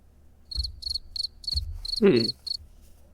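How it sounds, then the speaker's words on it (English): Rhythmic cricket chirps pulse in short, evenly spaced bursts, with soft thumps and a brief voice-like sound partway through. "I heard those crickets."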